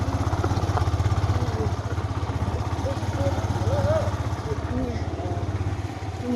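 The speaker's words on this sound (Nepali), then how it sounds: "ट्र्याक्टर जाँदैछ।" A tractor engine chugs past close by in a steady, pulsing rhythm, loud throughout, while a person talks over it.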